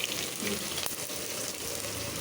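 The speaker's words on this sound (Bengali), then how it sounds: "পেঁয়াজ দিয়ে দিলাম পেঁয়াজটা ভাজা হোক" Chopped onions fry in a hot pan with a steady, close sizzle that holds evenly from start to finish, with no one talking.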